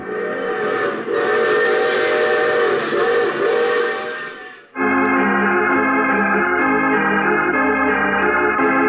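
A loud, sustained multi-tone train whistle from a 1948 radio drama blares for several seconds, briefly cuts out, then sounds again in a slightly different chord, steady and close.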